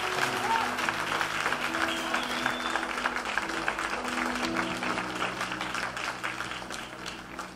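Congregation applause during a French-language church service, steady dense clapping throughout with sustained background music or voices underneath it.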